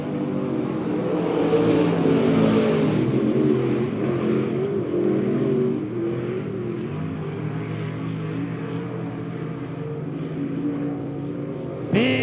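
Race cars lap at Monett Motor Speedway, a sustained engine drone swelling as cars pass near early on, then fading to a steadier distant roar.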